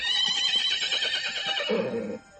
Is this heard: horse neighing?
yes